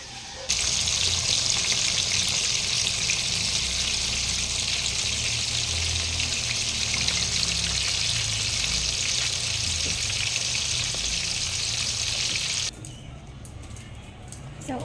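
Burger patties meant as dog treats fry in a pan with a loud, steady sizzling hiss that holds for most of the clip, then cuts off abruptly, leaving quieter background noise.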